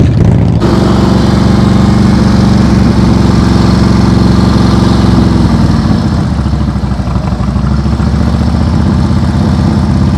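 A motorcycle engine runs loud and close at a steady throttle during slow-speed riding practice. The even, buzzing drone shifts slightly in pitch partway through but stays constant throughout.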